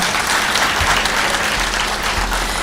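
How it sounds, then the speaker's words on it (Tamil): Loud, dense audience applause at a Tamil public speech event, a continuous close wash of many hands clapping throughout with some low thumps. "இன்னும் நல்ல உற்சாகமாவே கைத்தட்டல் தரலாம்"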